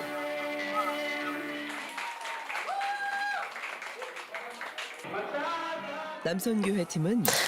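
Church assembly applauding a women's mission dance performance before the Lord, steady crowd clapping running throughout beneath loud music with sustained tones and singing.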